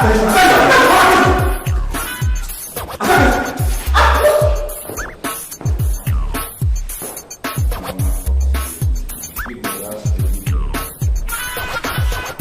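A dog barks repeatedly in sharp bursts, loud and close, mixed with yips and whimpers, under a dense layer of other noise in a tense indoor scene.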